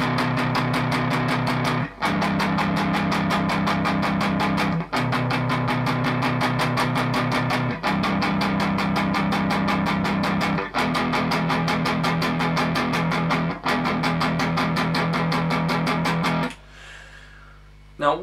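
An electric guitar overdub part from a song plays steady, bright, rhythmic strummed chords in repeated phrases with short breaks, then stops near the end.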